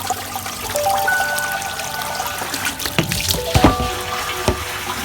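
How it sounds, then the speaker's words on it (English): Water from a well pump pours into barrels, a steady splashing trickle with scattered louder gurgles and drips, heard close and alone without any talk. "We're filling up our barrels, and Albert's coming to test the water today, so I thought I'd run everything through, get it good and clear."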